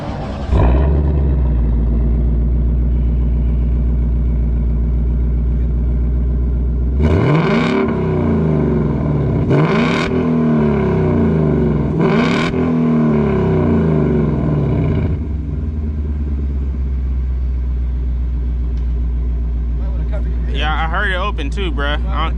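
A Dodge Challenger Scat Pack engine with muffler and resonator deleted idles with a deep, steady rumble, exhaust valves closed, then revs sharply three times in quick bursts before settling back to a loud idle.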